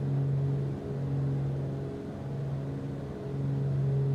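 Piston twin engines of a Blacksquare Grand Duke in Microsoft Flight Simulator, leaned for more power during a climb: a continuous low droning hum with slow pulsing beats, steady and even throughout.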